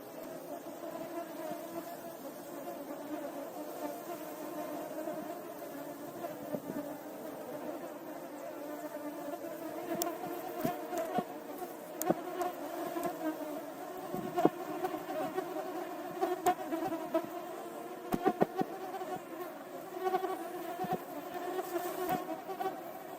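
A steady insect buzzing of wasps swarming around their nest in the ground, continuous and fairly close, with several sharp clicks and knocks scattered through the second half.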